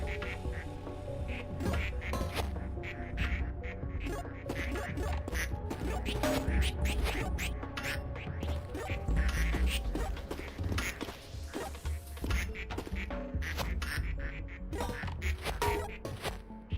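Ducks quack repeatedly in a duck-shooting video game, set against dense, loud game sounds with mechanical clatter and occasional crashing hits, no voices.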